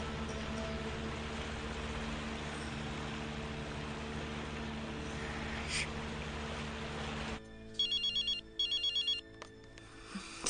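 Telephone rings in short repeated electronic bursts, three clear pulses after a steady background hum cuts out, fairly faint and alone without talk.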